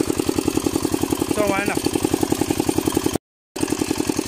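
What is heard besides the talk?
small engine of a farm tiller in a rice field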